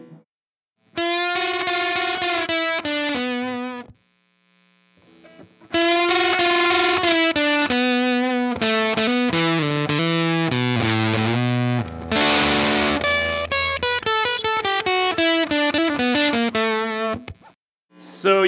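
Electric guitar through a Tone Hungry Effects Fuzz Cream fuzz pedal set about halfway to maximum, loud and thick with sustained distorted chords and note runs, broken by a short pause.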